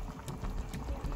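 A Creole fish court-bouillon sauce bubbles and simmers in a pot, a soft, close, continuous popping and gurgling with no voices.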